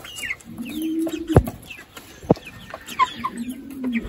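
Broiler chickens cluck and make soft, scattered calls at close range, with a few sharper louder notes among the flock and no talking.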